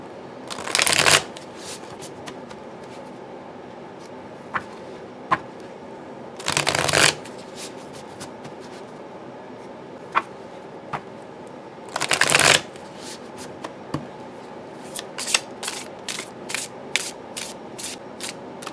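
Tarot cards riffle-shuffled in three loud bursts, with quieter clicks and card snaps in between, closer together near the end.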